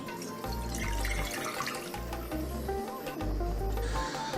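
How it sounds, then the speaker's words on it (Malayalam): Thick jaggery syrup pours into a bronze uruli pot for bamboo rice payasam, a close, low gurgling splash that comes in several bursts with short pauses between them. "ആദ്യം ഇതിലേക്ക് ഒഴിക്കാൻ പോകണേ നമ്മൾ ഉണ്ടാക്കി വെച്ച ശർക്കര പാനിയാണ് കേട്ടോ"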